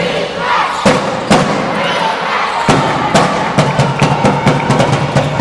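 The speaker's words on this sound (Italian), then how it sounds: "si alza anche il coro della tifoseria di" Calasetta basketball fans chanting in the arena during a game, a rhythmic crowd chorus with regular drum-like thumps and claps, steady and mid-distance throughout.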